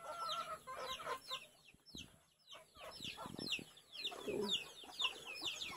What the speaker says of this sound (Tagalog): Yung aming manok na Brahma.